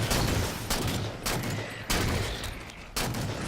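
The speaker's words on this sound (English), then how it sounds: "this DMR is a new weapon. It's basically an alternative for the carbine." A DMR semi-automatic rifle in Halo 4 fires four loud, evenly spaced single shots, each a sharp boom that decays into a long rumbling tail, with no talk.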